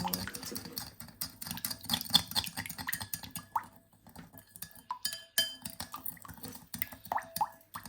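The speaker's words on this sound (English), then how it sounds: "Just we're gonna stir, getting all dissolved." A spoon clinks and scrapes against a bowl while stirring a sugar-free condensed milk mixture into boiling water, with irregular close, bright taps and swishes at moderate loudness and no talking.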